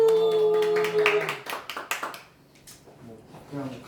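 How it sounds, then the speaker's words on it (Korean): A small audience claps lightly to welcome a guest speaker at a reading and discussion gathering, a scattered patter of hand claps that starts loud and tapers off over a few seconds. "작은 박수로 우리 조정민 선배님을 모시겠습니다"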